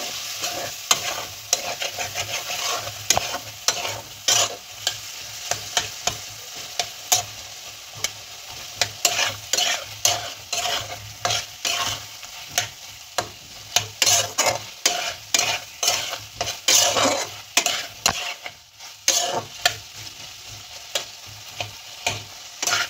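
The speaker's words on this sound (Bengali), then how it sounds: "অল্প জল দিয়ে দিয়ে কষবো যাতে না লেগে যায়।" Kohlrabi curry sautéed in a pan with small splashes of water, the spoon scraping and stirring in quick irregular strokes over a steady sizzle that lasts throughout, close and fairly loud.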